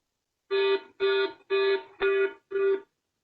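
A driver monitoring system alarm gives five evenly spaced electronic beeps, each about a third of a second, clear and close against silence.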